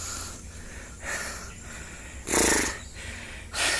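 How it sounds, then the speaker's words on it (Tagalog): Heavy, rhythmic panting and snorting breaths from a hunter out walking after wild jungle fowl, close to the mic, with three loud gasping bursts between quieter breaths. "Hinihingal na."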